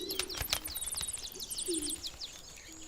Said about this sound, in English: This is its original ancestor, the Atlantic canary.